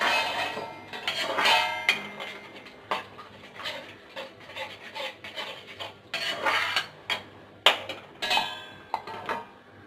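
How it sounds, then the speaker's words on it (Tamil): Metal cooking pot for a Tamil dried-fish curry being covered with a plate, giving close, loud clinks and scraping rattles in irregular bursts, with no talking. "தட்டு போட்டு மூடிடலாம்"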